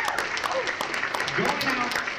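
A banquet audience at the Iron Dog snowmobile race draw applauds a racing team: dense, steady clapping across the room throughout, with a voice talking over it.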